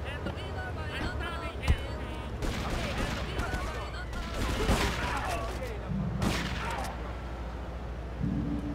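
Gunfire from GTA 3 Definitive Edition crackles in irregular bursts amid game noise, with a voice talking over the shooting.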